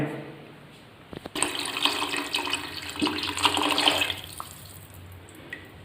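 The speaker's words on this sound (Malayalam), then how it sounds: "ഇതിൽ ഇപ്പം 2 ജഗ്ഗ് വെള്ളം ഒഴിക്കണം" Water from a jug splashes onto rice for chicken kabsa, a loud continuous gush lasting about three seconds before trailing off into faint drips, close by and without talk.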